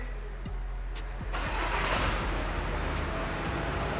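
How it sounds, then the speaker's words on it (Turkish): A 2021 Volkswagen Passat B8.5 engine cranks and catches around a second in, then settles into a steady idle hum. "Aç, çalıştır arabayı."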